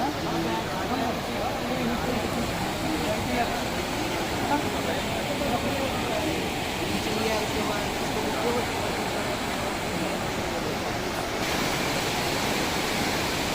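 Rivers Bhagirathi and Alaknanda meeting at the Devprayag confluence, a steady broad roar of rushing water heard from nearby, continuous and unchanging, no talking.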